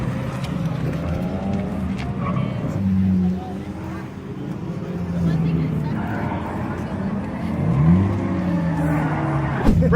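A drift car revs hard and its tires squeal in rising and falling sweeps, loud and close, with people talking over the engine noise.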